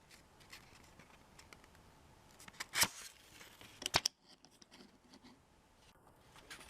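Scissors cut paper for a craft rabbit's dress in two quick, crisp snips, close by against a quiet room.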